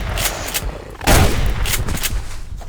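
Shotgun blast in the survival video game Subsistence, a loud broadband burst about a second in with a lingering noisy tail, over a constant background rumble of game ambience.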